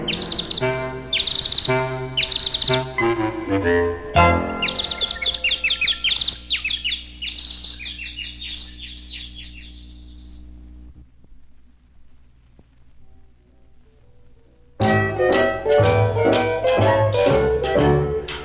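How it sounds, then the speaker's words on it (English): Bright, rapid chirping notes come in quick bursts over a musical backing, fade into a sustained tone, then return loud and busy. "All the birdie has to do is to sing her song"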